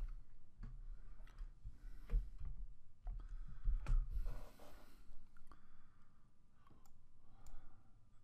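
Close computer mouse clicks sound over low background rumble and breathing noise while working in Microsoft Excel and Visual Basic. The crisp, isolated clicks are spaced irregularly across the stretch.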